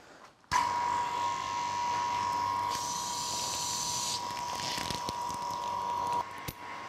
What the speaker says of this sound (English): Let's suck this bag down and then do a drop-down test.